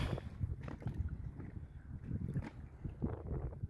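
Steady wind gusting over the open water of the Gulf of Corinth, Greece, heard from a kayak, with low rumbling buffeting and faint splashing, no voices.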